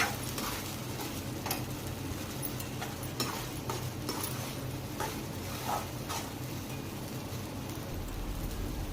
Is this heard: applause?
no